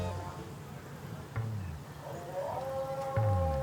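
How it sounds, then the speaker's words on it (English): Stray cat on a Dubai street giving a drawn-out, rising meow near the end, with a short cry earlier, over steady outdoor background noise and low rumble. "There's so many stray cats here, bro."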